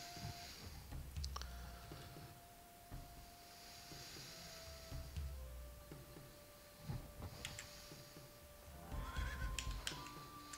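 A horse in the video game Civilization III gives a faint whinny against quiet game ambience, with a few soft ticks and tones mixed in.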